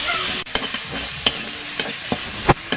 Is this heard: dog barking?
no